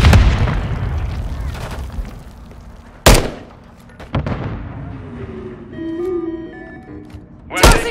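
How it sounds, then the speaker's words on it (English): A Semtex grenade explodes in a Call of Duty match, one sharp loud blast followed by further thuds and booms amid game sounds and a fading electronic tone, with another heavy impact at the end. "Tossing semtex."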